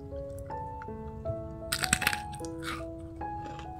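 Crisp crunching from a bite of a homemade crunchy snack, a brief burst of cracks in the middle over a bed of quiet background music, with no talk.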